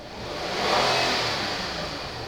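A ten-year-old Hyundai Grandeur Q270 with under 100,000 km, its engine revving hard as the throttle is pressed, a steady rising roar heard alone and up close.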